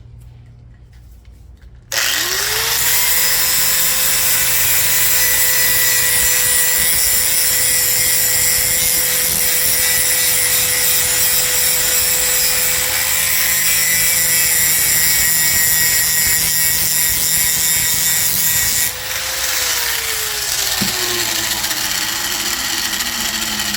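A power sander works over a cracked ceramic toilet tank with a loud, steady high whine that spins up, holds for about seventeen seconds, then winds down, close and alone.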